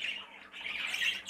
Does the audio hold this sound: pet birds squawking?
yes